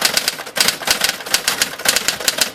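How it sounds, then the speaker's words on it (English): Smith Corona Secretarial 250 electric typewriter, cleaned and serviced, running with rapid rhythmic key strikes and a power carriage return, loud and close with no voices. "that powerful carriage return that these typewriters have"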